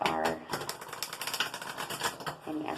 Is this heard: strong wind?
no